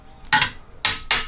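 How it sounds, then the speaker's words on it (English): A hammer taps bolted-together pieces of a homemade string jig, three sharp close strikes: one, a pause, then two more in quick succession, in a quiet workshop. "Take a hammer,"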